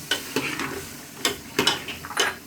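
Black chickpeas stirred and fried in a pan, a spoon scraping through them in several sharp strokes over a steady sizzle, close and clear with no talking.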